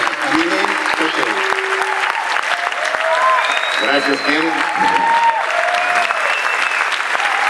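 A live audience at the Cúpula de Comediants in Canet de Mar applauds speakers Ramon Cotarelo and Emili Sánchez, with dense steady clapping throughout and a voice speaking over it.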